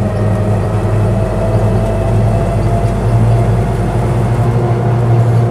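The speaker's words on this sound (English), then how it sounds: "No, that engine sounds really quite nice now, actually." A Land Rover Lightweight's engine runs at a steady, smooth idle, close and continuous, with a low droning hum and no speech over it.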